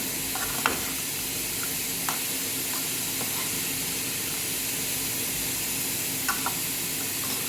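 Fried fish pickle sizzles softly in a pan on low heat, a steady hiss broken by a few light scrapes of a stirring spoon, close by and without any talk.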